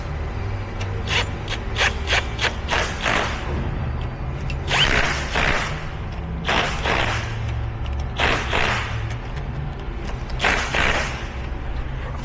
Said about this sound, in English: always check your torque with a ratchet